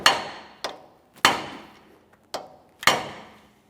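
A hammer drives a punch against a lug nut on a 2014-2019 Toyota Corolla steering knuckle, giving four sharp metallic taps in uneven rhythm, each ringing briefly, close and clear with no talking.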